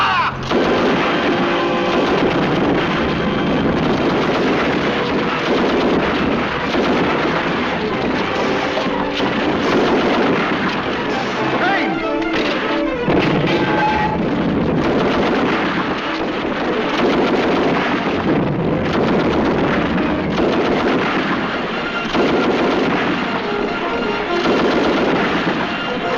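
Artillery guns firing in a 1944 wartime battle scene: a continuous loud, dense roar of heavy gunfire and explosions that never lets up, with shots blending into one another throughout.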